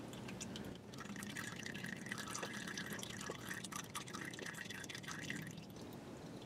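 Engine oil drips and trickles from a Honda Odyssey's oil filter fitting into a drain pan, a steady wet patter close by with no talking.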